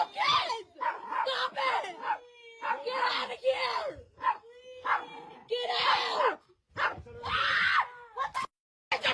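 A dog barks and yelps over and over, loud and close, with strained, howl-like cries in quick bursts and short gaps between them.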